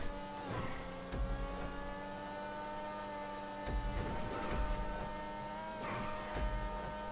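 Engine of a Seven 70 sports car in the video game GTA V, a steady sustained drone with periodic low thumps and surges as the car is driven, moderately faint.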